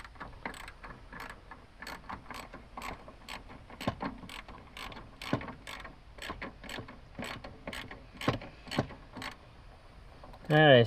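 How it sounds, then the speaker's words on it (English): A ratchet tightens a small nut on a car's brake master cylinder, giving a steady run of sharp, close clicks at a brisk, slightly uneven rhythm, ending with a brief louder noise. "we're going to tighten that bolt up down there"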